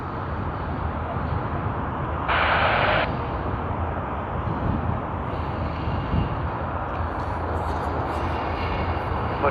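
Jet airliner on runway 34 left at Sydney Airport, a steady broad engine roar filling the scene with a brief brighter hiss partway through, moderately distant, no voices.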